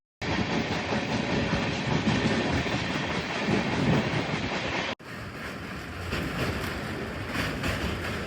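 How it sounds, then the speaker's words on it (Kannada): Train at Yeshwantpur railway station, a loud continuous rumble of moving rail cars with steady rolling noise, briefly cut and then resuming slightly quieter. "ಫೈನಲ್ ಆಗಿ ಯಶವಂತಪುರ ರೈಲ್ವೆ ಸ್ಟೇಷನ್ಗೆ ಬಂದಿದ್ದೀವಿ."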